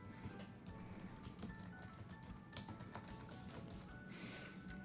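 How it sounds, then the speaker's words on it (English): Typing on a computer keyboard, with a run of quick soft key taps at an uneven pace, close and low in level, and no talking. "I'm going to get rid of this and just type in something simple"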